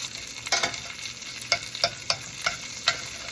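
Herbed butter melting and sizzling in a hot pan, with a steady low crackle broken by several sharp stirring or scraping clicks at irregular intervals.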